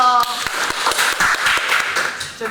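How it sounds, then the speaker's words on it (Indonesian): Group of people clapping together, a dense burst of quick hand claps close by, fading toward the end with talk over it. "Tepuk tangan dulu dong."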